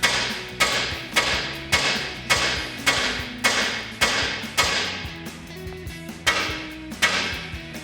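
Sharp metal hammer taps on a Ford F-150 suspension part, knocking it loose during stock suspension removal; about a dozen loud, close, evenly spaced strikes with ringing tails, no talking.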